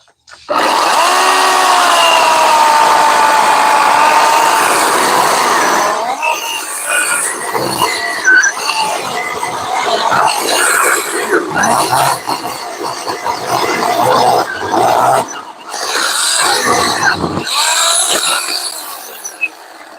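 A battery chainsaw bites into a six-to-eight-inch wood slug, its motor whining steadily for several seconds before the cut bogs and labours in uneven surges, loud and close, with occasional grunts.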